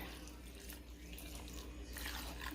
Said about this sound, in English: Next I'm adding some water.